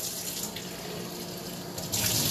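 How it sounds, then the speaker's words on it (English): Kitchen tap water runs steadily as a mug is rinsed underneath, a close, continuous splashing stream with a brief surge near the end. "let me rinse this out"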